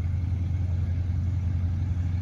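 Nissan Patrol off-road vehicle engine running steadily, a continuous low rumbling drone with no clear revving, heard close and alone.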